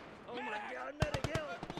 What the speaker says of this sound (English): good grenade play by Kiss